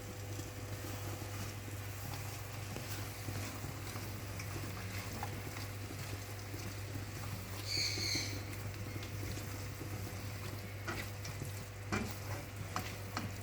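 Kesari sizzling softly in ghee while being stirred, a low steady frying crackle with occasional scrapes of the spoon, faint and continuous under a constant hum.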